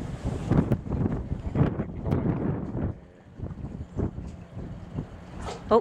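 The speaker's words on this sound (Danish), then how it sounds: "Det er hårdvind" Strong wind buffets the microphone while sailing a 606 dinghy from Hellerup sailing club, with gusty roaring bursts, water and hull noise, and a brief lull midway.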